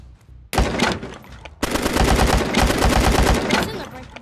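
Video game gunfire aimed at a gun target: a sharp shot, then a sustained rapid burst of automatic fire lasting a few seconds, loud and alone.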